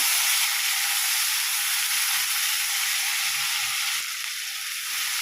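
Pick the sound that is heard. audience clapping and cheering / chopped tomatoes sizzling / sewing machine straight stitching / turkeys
chopped tomatoes sizzling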